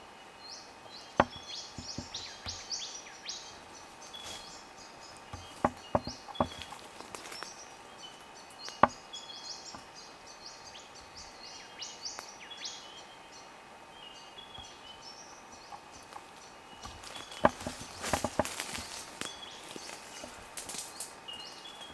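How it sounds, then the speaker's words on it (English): Birds of several species calling in a Palm Creek native forest in Australia, sparse faint chirps and short calls scattered over quiet ambience, with occasional sharp clicks and knocks. "Listen to the other bird species."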